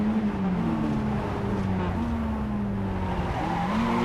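A Spec Miata engine in the iRacing game drones with the clutch held in, its steady tone drifting up and down in pitch as revs change, continuous and fairly close, with faint voices of commentators in the background.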